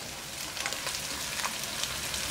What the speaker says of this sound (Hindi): अब ये फ्राई किए हुए चिकन डाल देंगे इसमें।